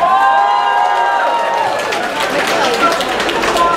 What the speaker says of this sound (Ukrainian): Отож, друзі, Німіро, ваші оплески?